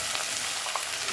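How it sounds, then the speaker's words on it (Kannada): Raw peanuts fry in hot oil in a pan, giving a constant, close sizzling hiss with faint crackles and no talking. "ಒಂದು 10 ಸೆಕೆಂಡ್ ನೋಡಿ ಇದು ಫ್ರೈ ಆಗಬೇಕು."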